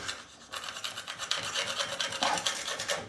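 A spatula scrapes and rasps old silicone sealant off a bathtub edge in a run of quick, close, gritty strokes, fairly quiet and with no talk.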